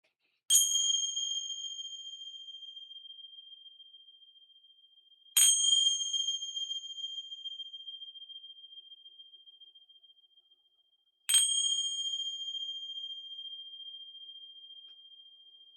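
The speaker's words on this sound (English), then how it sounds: "I'm gonna ring some bells here. They may be a little loud." Three bright bell strikes ring out alone, each spaced several seconds apart, with a long sustained tone fading slowly after every hit.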